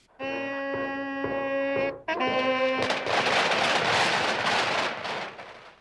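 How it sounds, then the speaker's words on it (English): Sicilian-style fireworks display honoring a donor: a sustained musical tone gives way to dense, loud crackling and booming bursts that fill the last few seconds. "he was honored with a shepherd's staff and a fireworks display, Sicilian style."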